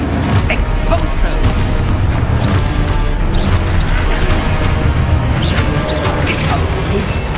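Expulso blasting spell detonating in Hogwarts Legacy on hard mode, a dense, loud burst of booming crashes and debris over steady combat noise, with a voice shouting through it.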